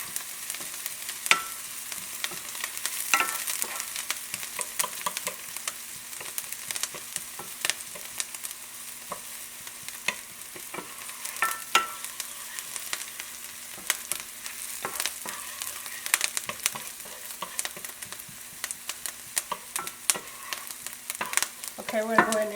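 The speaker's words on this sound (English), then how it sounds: "Now I'm going to go ahead and saute these for about 3 minutes. I want these onions to be translucent and softened." Onions sautéing in a pan over a turned-down flame give off a steady, close sizzle and crackle with occasional stirring clatter, running continuously for the whole stretch without any talking.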